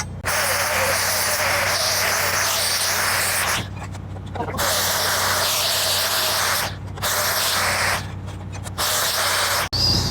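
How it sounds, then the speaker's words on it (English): A flap wheel grinds metal on a homemade UTV build in long, loud, continuous bursts of harsh rasping, with three short pauses between passes. "Clean it up for the flap wheel, see what we get."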